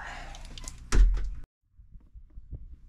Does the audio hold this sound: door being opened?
yes